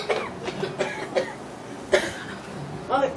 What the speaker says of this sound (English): Both of you are still coughing.